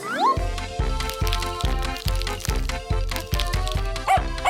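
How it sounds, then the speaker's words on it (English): A small puppy barks and yips in quick, regular bursts close by, with talking heard alongside it. "Oh, a cute little puppy."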